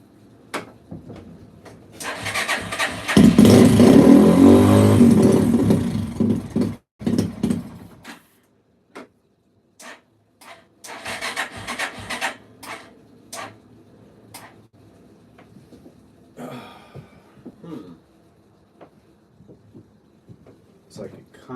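A 2005-2009 Yamaha TTR-230 motorcycle engine, dosed with starting fluid, sputters and catches loudly for several seconds, then dies into scattered clicks and short bursts of cranking, with people talking over parts of it.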